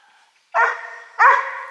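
Search and rescue dog in play training gives two loud, close barks about half a second apart, with a quiet pause before the first.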